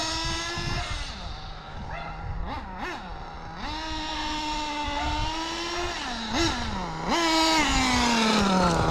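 Losi 8ight X Elite nitro RC car engine breaking in, running continuously with loud buzzing revs that rise and fall repeatedly, several sharp blips between steadier stretches, close by.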